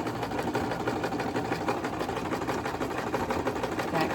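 A sewing machine runs continuously while back stitching a dish drying mat being made into a basket, a steady close mechanical whir with no voices over it.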